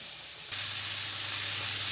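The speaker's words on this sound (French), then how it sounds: "tranches de viande, la faire frire à l'intérieur." Slices of meat drop into a hot pan of oil and burst into a loud, steady sizzle that starts abruptly after half a second and continues close by, with no talking.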